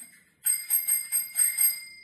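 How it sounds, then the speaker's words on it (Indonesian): A bright notification chime rings out several times in quick succession, a bicycle-bell-like ding-ding pattern after a brief silence, clear and close with no talking. "pencet juga lonceng notifikasinya"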